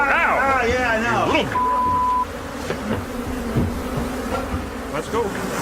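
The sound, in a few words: swarm of killer bees attacking from hive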